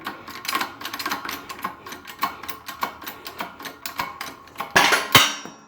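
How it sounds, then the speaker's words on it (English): An old Honda wheel bearing is pressed out with a socket, a run of sharp metallic clicks and knocks ending in a louder clunk and rattle as it pops free, close and clear with no talk. "There's the old bearing pressed out."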